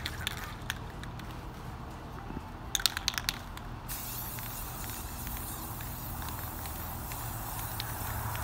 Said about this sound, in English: we are ready to spray paint these, and I'm using Rust-Oleum